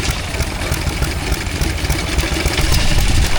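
A Fairbanks Morse engine powering a Parker cement mixer at a country show, running with a loud steady chug that rises slightly toward the end. No voices are heard.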